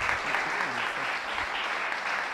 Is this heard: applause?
yes